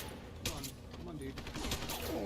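Bursts of gunfire from the video game Deus Ex: Human Revolution, several sharp shots in quick succession at moderate loudness, with game sound effects around them.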